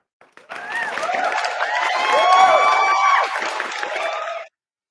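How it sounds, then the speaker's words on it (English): A crowd cheers and whoops for several seconds, with mixed voices shouting and a steady wash of noise that starts suddenly and cuts off abruptly. "So let's, have a round of applause for some people here."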